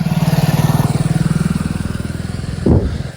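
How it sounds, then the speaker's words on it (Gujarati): A motorbike arriving close by, loud rhythmic engine putter that slows and ends in a brief clattering rev near the end. "આ બાઈક આવ્યું કોણ હશે"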